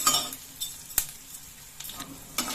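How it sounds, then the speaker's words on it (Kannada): Chana dal and urad dal fry in a pan with a soft sizzle, with a few clinks and scrapes of a spoon stirring them, close and fairly quiet. "ಕಡಲೆಬೇಳೆ ಹಾಕೊಂಡ್ಬಿಡ್ತೀನಿ ಫ್ರೈ ಮಾಡ್ತೀವಿ ಈಗ ಉದ್ದಿನ ಬೇಳೆ"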